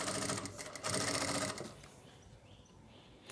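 A sewing machine runs a line of stitching along a ready-to-wear belted saree, a steady close whir for about a second and a half before it stops and leaves quiet room noise.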